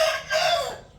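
A human voice imitates the sound a rooster makes while mating, giving one short, strained call of about a second, close and fairly loud.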